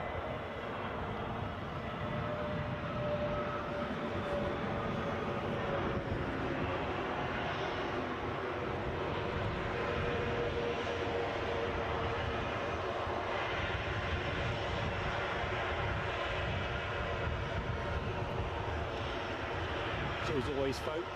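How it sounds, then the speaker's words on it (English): An Airbus A320neo at Edinburgh airport produces a steady, moderate engine drone that holds throughout, while a person talks over it. "A320 Neo."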